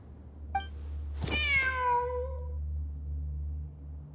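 Cat meows in a video game: a short chirp, then one long rising-and-falling meow over a steady low background hum, clear and close, with no talk.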